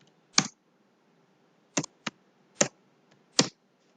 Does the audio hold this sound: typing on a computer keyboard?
yes